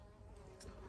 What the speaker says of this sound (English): the bee's going mad now